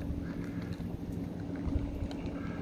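A steady low engine drone from a boat on the water, continuous and moderately distant, with no voices.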